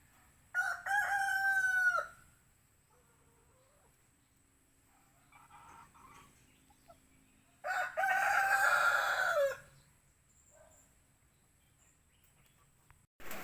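Roosters on a farm crow loudly twice, one long call near the start and another midway through, with quiet farmyard background between them.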